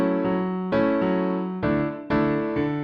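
Piano playing the groove of a song straight, without swing: a few sustained chords struck in an even rhythm, close and clear with no talking.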